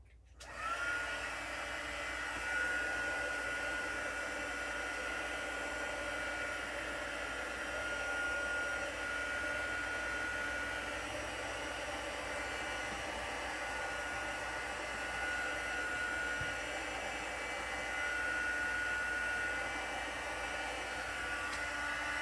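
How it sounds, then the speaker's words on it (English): A heat gun runs continuously over a junk journal craft page, producing a steady, close, airy whir that starts abruptly and holds at an even level. "Oops, let's give that a little heat gun."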